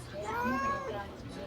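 Tisoy, a cat shut indoors, lets out a single drawn-out meow, close and fairly clear over a low background hum.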